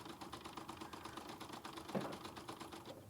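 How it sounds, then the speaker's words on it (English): An embroidery machine sews a single line down the middle of a fabric tongue on a gnome puppet, giving a quick, rhythmic needle chatter over a low motor hum, steady and near, with one small knock midway. "this will just sew the one line down the middle of the tongue"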